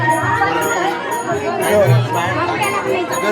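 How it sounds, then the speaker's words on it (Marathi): A packed crowd at a religious gathering, a guru worship and prayer assembly in Ridhora Kamthi, chattering in a steady, close babble of overlapping voices. "एवढी गर्दी आहे ना"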